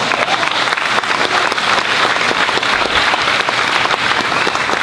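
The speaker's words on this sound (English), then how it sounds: "I appreciate the applause" Steady, dense applause from a Tea Party rally audience, many hands clapping continuously and loudly throughout without a break.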